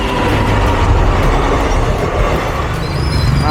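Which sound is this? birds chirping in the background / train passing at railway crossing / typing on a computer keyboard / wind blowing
train passing at railway crossing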